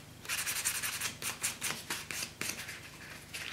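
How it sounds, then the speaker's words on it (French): A white-surfaced buffer block rubs back and forth across a natural fingernail during a traditional manicure, making soft, rhythmic scratchy strokes up close, with no talk. "Donc je passe la surface blanche, ce qui va donner un brillant à l'ongle naturel."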